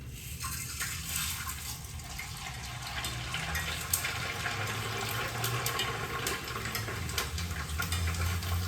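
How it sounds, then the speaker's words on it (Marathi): Sabudana (sago pearls) fry in hot oil for a chivda, a steady loud bubbling hiss with crackling spatter that continues throughout. "मी थोड्या थोड्या प्रमाणात हे साबुदाणे तळून घेणार आहे"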